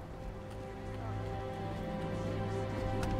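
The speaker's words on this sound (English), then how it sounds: "Hey, the rain." Steady rain in the video game Starfield, falling in the city of New Atlantis as a continuous dense patter over a low hum, gradually growing slightly louder, with no talking.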